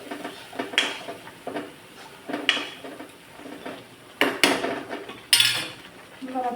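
Ground masala being stirred into mutton in a pot gives repeated scraping and clinking of a metal spoon against the vessel, with irregular louder knocks, close and clear.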